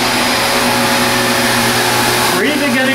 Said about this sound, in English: we're going to take one of the most popularly sold vacuums in discount stores and online, Malaysian Maid